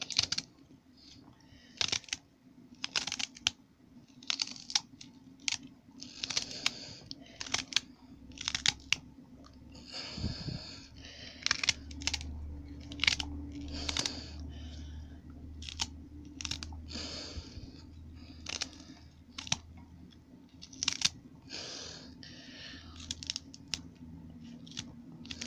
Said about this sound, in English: this bunch of celery. I forgot it, you know, behind me. So we'll be it's washed, and I will dice it into the bowl also